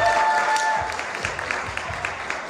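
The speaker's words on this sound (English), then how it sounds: "Let's give them a round of applause." Audience at an improv comedy show breaking into a sustained round of applause, dense clapping that holds steady for a few seconds and gradually thins toward the end, with faint voices mixed in.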